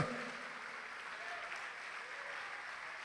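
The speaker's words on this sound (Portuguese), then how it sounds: "Vamos aplaudir a Jesus por isso." Church congregation applauding during a sermon, a faint, steady patter of many hands clapping at a distance.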